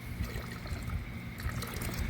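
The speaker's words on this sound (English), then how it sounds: "put a little bit of cold water in there. That's going to settle those grounds down to the bottom of this coffee boiler." Cold water pours and trickles into a metal coffee boiler outdoors to settle the grounds, a soft, close, continuous splashing with no talk.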